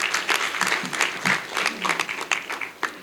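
An audience at a charity foundation launch claps, a round of applause with uneven bursts of hand claps from a modest crowd, close and moderately loud.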